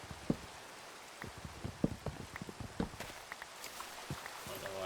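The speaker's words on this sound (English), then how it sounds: "it started raining too" Rain falling in the Minecraft video game, a soft steady hiss of drops with scattered louder taps and faint footstep-like thumps, fairly quiet and continuous throughout.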